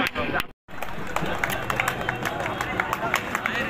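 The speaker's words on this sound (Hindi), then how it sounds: "ताली बजाकर उत्साह बढ़ाते हैं" Crowd at an outdoor kabaddi tournament clapping to cheer the players, a steady patter of hands with crowd murmur, broken by a brief dropout.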